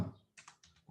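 A computer keyboard takes a few quick keystrokes, a backslash followed by the letter T, during a Java coding lesson. The clicks are close and crisp, with a brief pause between them and no talking.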